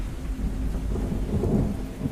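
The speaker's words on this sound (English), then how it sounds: "you can actually look at the thunder and lightning" A storm in the video game The Perils of Man rolls on with a deep, continuous thunder rumble under steady rain, low and heavy throughout, with no voices.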